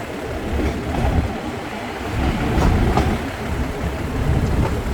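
A train rolls along railway tracks on the journey from Phnom Penh to Kep, a continuous loud rumble with faint rhythmic clatter of the wheels, heard from inside or near a carriage.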